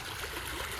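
Water streams steadily through an irrigation canal, a continuous broadband rush heard close with no break.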